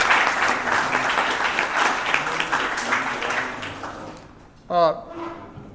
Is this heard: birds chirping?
no